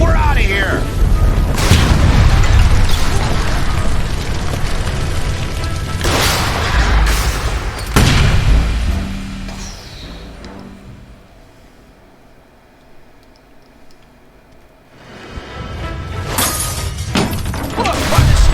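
A shot gas line explodes in a video game, with several loud booms and shattering crashes spread across a noisy stretch, a quieter lull, then another heavy roaring burst.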